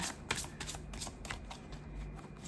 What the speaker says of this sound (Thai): ขออนุญาตสับไพ่ก่อน